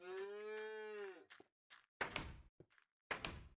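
A Minecraft cow gives a single sustained moo, followed by a scattered run of dull thunks and knocks, like blocks or a door, in a quiet game scene.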